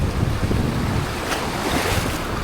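Ocean waves at sea heard from a boat during fishing, a continuous rushing surf with wind buffeting the microphone, loud and steady with no voices.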